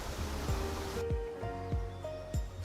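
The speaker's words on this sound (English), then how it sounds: "The sound of crashing water fills the surrounding environment." Crashing waterfall water in the video game Goddess of Victory: NIKKE, a steady broadband rush filling the scene, with soft periodic thuds and faint tonal game effects layered over it.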